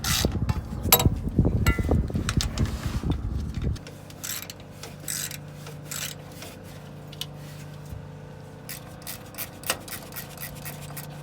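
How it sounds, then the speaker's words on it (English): A wrench and socket loosen bolts on an 80 Series Land Cruiser during a gas smell repair. A few seconds of quick ratcheting clicks and metal rubbing are heard up close, then a quiet stretch with sparse small clicks. "I'm going to get that one with a wrench, this one with a socket, this one with a socket"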